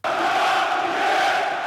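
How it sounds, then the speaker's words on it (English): A crowd at a EuroLeague basketball game, with handheld fireworks going off among the fans, gives out a loud, sustained roar that holds steady for the whole moment. "Handheld fireworks in the middle of a crowd?"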